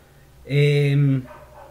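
A single dog barks once, a loud, tonal bark lasting under a second, followed by faint background noise in a classroom setting.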